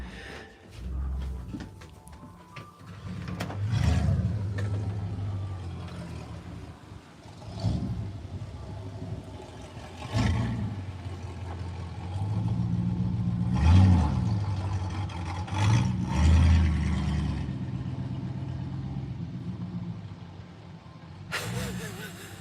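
A loud car engine idles and revs in a driveway, rumbling bursts rising and falling over several seconds, with people talking over it.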